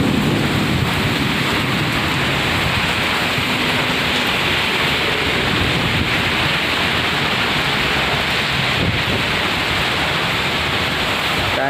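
Heavy rain and wind lash Bhubaneswar in the morning, a loud, dense roar of pouring water with low rumbles of thunder rolling beneath it throughout.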